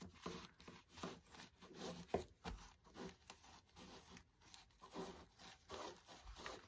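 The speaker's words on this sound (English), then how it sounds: "we're going to start by cutting the tablecloths directly in half" Scissors cut through thick folded plastic tablecloths, giving a string of rough crunchy snips and rubbing scrapes at a steady, uneven rhythm, close up and fairly quiet with no voices.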